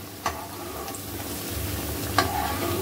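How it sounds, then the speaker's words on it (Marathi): Kothimbir vadi, coriander fritters made without besan, fry slowly in oil over a low gas flame, giving a steady soft sizzle broken by two sharp utensil clicks. "अशी मंद गॅसवरती चांगली अशी तळून घ्या"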